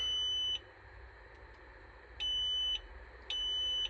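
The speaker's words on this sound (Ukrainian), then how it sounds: "Отак От воно пікає." Three sustained electronic beeps from an MTZ 892 tractor with a fully dead battery, at uneven intervals, each about half a second long, sounding over a low, steady rumble.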